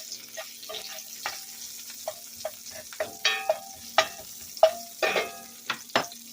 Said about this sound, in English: I'm going to start to add the onions to the coconut oil and give that a good stir.